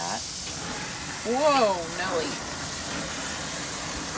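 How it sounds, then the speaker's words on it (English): Artichokes, cut side down, sizzling on a hot grill: a steady broadband hiss running the whole time, with a brief exclaimed voice over it near the start. "So we're gonna place them cut side down on the grill, just like that."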